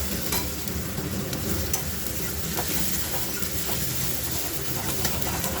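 Spicy curry with extra green chili, salt and tomatoes frying in a pan, giving a steady close sizzle with scraping stirs throughout, no voices.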